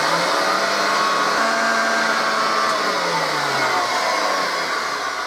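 An 83-year-old Hoover 375 upright vacuum cleaner, dusty from decades in a shed, runs with a loud steady motor whine and airy roar, its pitch drifting slightly, close and alone.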